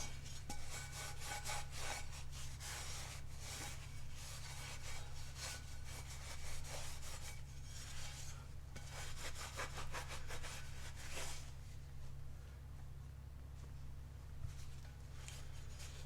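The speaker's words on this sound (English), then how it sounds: "I want to rub as much of the dust off of it as possible." Dry washcloth rubbed over a rusty, dusty cast iron piece, a steady scratchy back-and-forth wiping that runs continuously and close, with no talking over a low background hum.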